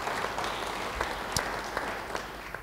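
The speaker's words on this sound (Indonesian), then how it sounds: "Yang mau beri tepuk tangan bagi dia." A church congregation applauds during a sermon, a steady wash of many hands clapping at once, dense and moderately loud, with a few sharper individual claps standing out from the crowd.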